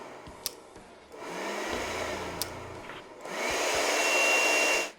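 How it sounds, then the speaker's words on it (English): Ryobi 18-volt cordless leaf blower running at three speed settings, a whooshing airflow that starts soft, steps up to a stronger rush, then jumps to a loud roar before cutting off, with a few clicks between. "this is a 3-speed blower and you can hear the difference between each setting."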